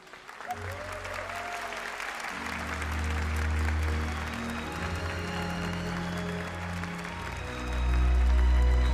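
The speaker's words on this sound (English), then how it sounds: "A huge round of applause here for the third place team of Team Subaru, for Danny Solis, for Kylian" Sustained applause from a large crowd at a Gran Turismo esports world final trophy ceremony, steady and full throughout, swelling louder near the end with some background voices and a low rumble.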